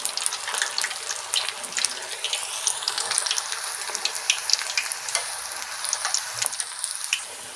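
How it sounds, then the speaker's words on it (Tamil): Mushroom pakoda batter pieces deep frying in hot oil, a dense, continuous crackling bubble with rapid pops, close and steady throughout, no talk. "இந்த மாதிரி போட்டு ஒரு நிமிஷம் கலந்து நல்லா இந்த மாதிரி பொரிச்சு எடுத்துக்கலாம்."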